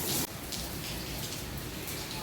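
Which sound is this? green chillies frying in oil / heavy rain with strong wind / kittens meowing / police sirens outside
heavy rain with strong wind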